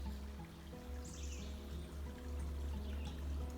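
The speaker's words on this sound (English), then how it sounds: "the water is moving very swiftly" Swiftly flowing shallow water of the Mashpee River pours and trickles steadily over its bed, a constant close babble with faint birdsong in the background and no talking.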